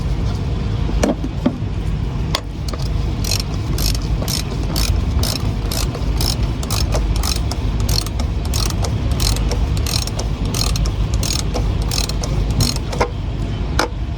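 Ratchet tightening a fuel filter housing on a Mercedes Econic truck, giving rapid, close metallic clicking in steady bursts over a constant low background rumble.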